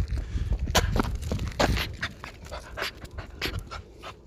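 A dog pants in quick, rough breaths close by, with soft footsteps and light shuffling around it, and no voices.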